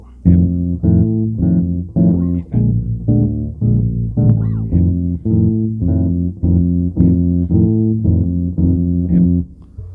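A plucked bass line walks through steady repeated notes over a looping chord pattern, even rhythm, clear and close.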